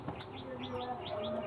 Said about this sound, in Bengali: এইগুলো চেন্নাইয়ের পায়রা। এই দুটো চেন্নাইয়ের বিট আছে দেখুন